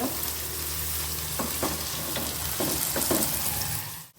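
Peas and ground black pepper stirred into a hot pan for restaurant-style egg fried rice, a loud steady frying sizzle with several quick scraping spatula strokes, close, cutting off abruptly at the end.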